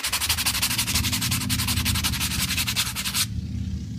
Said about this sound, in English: rub it on some sandpaper